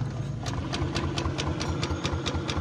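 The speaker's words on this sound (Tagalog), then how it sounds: "So ganito yung motor ni boss mga katropa kapag pinush button ko." A motorcycle turns over after a push-button start, close by, giving a rapid, evenly spaced ticking pulse over a steady low mechanical drone with slight rattle.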